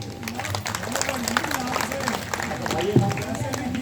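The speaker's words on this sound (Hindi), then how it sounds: "चलो ताली बजाओ" Audience at a satsang with dholak players clapping along in steady rhythm under continuous talk and music.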